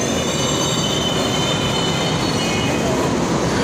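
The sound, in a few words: inside a crowded light rail train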